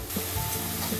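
Onion paste browning in a pan for a rohu fish curry, giving a steady, close sizzle with a soft broadband hiss and no speech.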